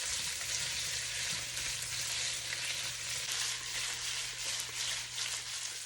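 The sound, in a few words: sausage frying in oil in a pan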